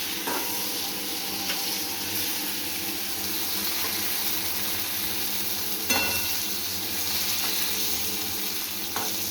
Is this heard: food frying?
yes